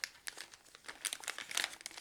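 Plastic Ziploc bag crinkling close up, with a rapid series of crisp crackles and rustles in uneven bursts, loud and alone.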